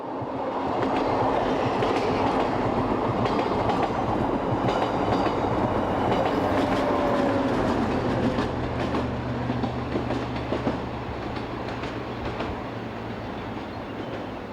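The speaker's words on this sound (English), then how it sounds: "we take a look at new Class 2016 diesel locomotives in operation just to the east of Graz" A Class 2016 diesel locomotive train passes on the line east of Graz, a loud, sustained rumble with rhythmic clickety-clack of wheels over rail joints lasting throughout, with no talking.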